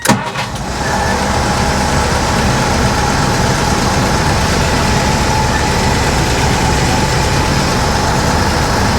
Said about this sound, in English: So let's fire it up, and we should have a leak-free, nice, quiet operation